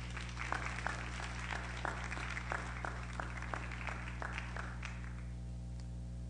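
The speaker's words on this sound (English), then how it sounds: "Let's give them another round of applause." Scattered clapping from a small audience at an active shooter presentation, distinct individual claps in an uneven rhythm over a low steady hum, fading out before the end.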